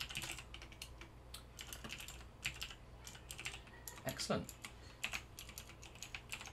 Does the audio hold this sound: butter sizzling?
no